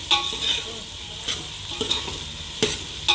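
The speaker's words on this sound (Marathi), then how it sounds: "कांदा एकसारखा हलवत राहायचा आहे।" Chopped onions frying in a pan for a dhaba-style whole masoor dal, stirred continuously until browned: a steady crackling sizzle with repeated spoon scrapes and knocks against the pan.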